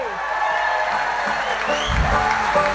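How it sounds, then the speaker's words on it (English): Steady applause from a folk festival audience for a guitarist being introduced fills the space, a continuous wash of clapping from many hands. "Give him a round of applause"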